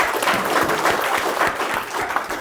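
Applause for a pointer bitch at a field trial: a steady crowd of hands clapping, dense and moderately loud, tapering off slightly toward the end.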